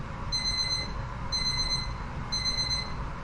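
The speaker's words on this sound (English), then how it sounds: "of course the alarm's going off for that" An alarm clock beeps in three evenly spaced bursts of rapid, high-pitched electronic tones, loud and close, with no talking.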